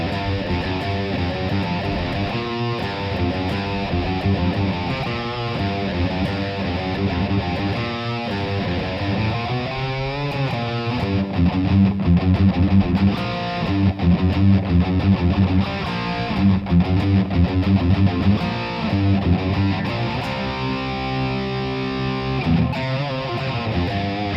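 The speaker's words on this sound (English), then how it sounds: "the first one you're going to learn is guitar 1 in the main riff and the verse" Distorted electric guitar plays the main riff and verse of a song as a dense, continuous, gritty line. Steady and loud throughout, with no voices.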